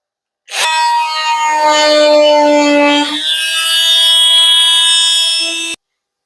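Burrs being removed from the cut edge of a pressed washing machine drum, a loud, sustained metallic ringing scrape with a steady tone that shifts partway through and ends abruptly.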